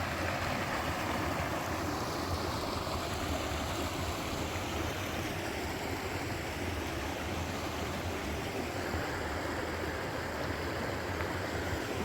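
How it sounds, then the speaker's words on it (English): Babbling brook tumbling over a teeny waterfall on a river trail in the Jemez Mountains, a steady, full rushing and gurgling of water that stays close and constant throughout with no voices. "Just love the babbling brook sound."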